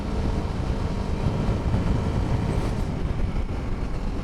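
Continuous CFMOTO 250 SR motorcycle engine drone and road rumble while riding on a road in Turkey, steady and loud, mixed with rushing wind noise and no speech.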